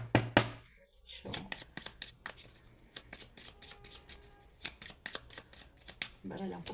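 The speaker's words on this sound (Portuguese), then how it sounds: "baralhar um pouquinho mais aqui." A deck of cards being shuffled by hand during a tarot-style reading, a series of quick crisp riffles and taps in irregular bursts, close and clear, with a voice briefly present.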